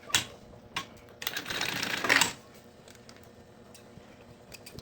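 A sewing machine runs a short burst of stitches, fastening a bow strap at the corner of a handmade handbag, with a few quiet clicks before and after in an otherwise still room.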